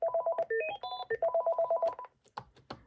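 Electronic ringtone from a Panasonic KX-TG5583 cordless phone: a rapid melodic run of bright tonal beeps, steady and close, fading into a few scattered clicks and knocks at the end.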